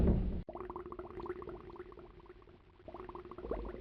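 Water bubbles and gurgles in a dark, drained underground area of the video game Myst, a continuous low, wet burbling with a faint hum beneath, moderately close and without talk.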